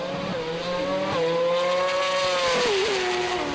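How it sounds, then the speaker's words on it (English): Drag racing car engines at the start line, a loud rough engine note rising and falling with sharp pops and bangs, close and continuous with no talk over it. "the totally different engine note, the way they pop and bang on the start line"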